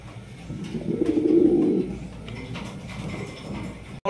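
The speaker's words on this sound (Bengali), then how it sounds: "এগুলো শৌকিং কবুতর" Fancy show pigeons at a pigeon farm give low, throaty coos that swell to a loud burst mid-way and then settle into softer, steady cooing with background rustle.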